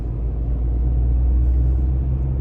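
Peugeot 2008 1.2 PureTech three-cylinder engine with an EAT8 automatic, driven in eco mode on a road, holding a steady, loud, low rumble heard from inside the car.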